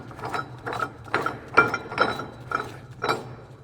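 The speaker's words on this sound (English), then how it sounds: "So you unscrew on every side." A hand ratchet clicks through about seven spaced bursts of pawl ticking while loosening the bolts of a Bundeswehr Haacon container mounting system on a Unimog 435 U1300L, close and clear with no talk.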